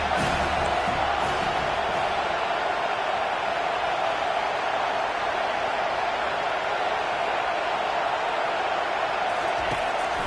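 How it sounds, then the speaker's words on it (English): Stadium crowd in a college football video game roaring in a steady, dense wash of cheering noise, loud and unbroken throughout with no clear individual voices. "This crowd rising up, sensing that its defense needs some help."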